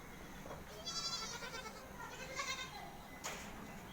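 Goats and goat kids on a Konkan goat farm bleat in a few quavering calls, one longer cry followed by shorter ones, fairly close against a steady outdoor hiss.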